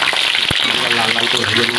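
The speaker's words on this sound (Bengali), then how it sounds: "তেল গরম হয়ে গেছে, আলুটা দিয়ে দেবো।" Potatoes hit hot oil in a home kitchen pan and fry with a loud, continuous sizzle, a sharp clatter near the start, then steady bubbling crackle.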